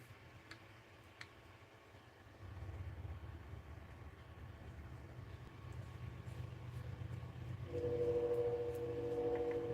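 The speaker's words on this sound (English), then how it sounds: "Oh, I hear a choo-choo train coming down the track." A train approaches along the track, its low rumble swelling steadily louder, with a sustained horn-like tone sounding near the end over the rolling noise.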